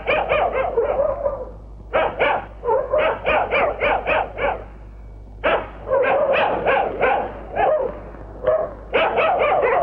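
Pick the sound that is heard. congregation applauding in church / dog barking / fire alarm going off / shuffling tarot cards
dog barking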